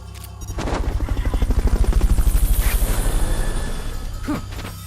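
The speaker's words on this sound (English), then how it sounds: "Fulton recovery helicopter is complete." Loud rhythmic thumping of a Fulton recovery helicopter's rotor blades in Metal Gear Solid: Peace Walker, swelling to a close pass and then fading, ending with a short whooshing game sound.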